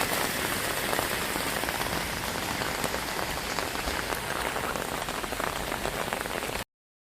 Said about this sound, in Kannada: ಮಳಿ ಕಮ್ಮಿ ಆಗ್ತಾ ಬಂತು